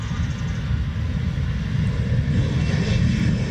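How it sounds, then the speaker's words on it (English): Turkish Airlines Airbus A330 departing Dublin Airport, heard as a continuous deep, rumbling jet engine roar with a broad hiss, steady and fairly loud from a distance, with no talking. "I might just wait and get the departing Turkish A330"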